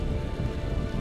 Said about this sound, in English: It's much better now, but still raining.